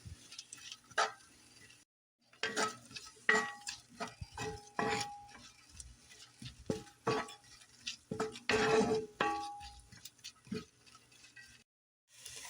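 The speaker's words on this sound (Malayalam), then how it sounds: "ഇനി ഇതൊന്ന് നമുക്ക് വഴറ്റിയെടുക്കാം." Onions and green chilies sauté in a pan for a Kerala-style chicken cutlet, heard as close, intermittent spoon scrapes and clinks against the pan with a light sizzle between strokes.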